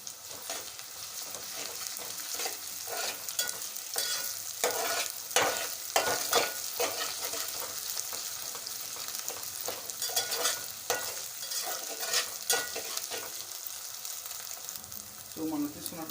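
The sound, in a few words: onions and ginger frying in a pan for fish curry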